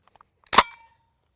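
A shotgun firing a Hornady number 5 turkey load at a target 25 yards away gives a single sharp, loud blast that decays quickly, preceded by a few faint clicks.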